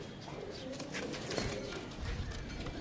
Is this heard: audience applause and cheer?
no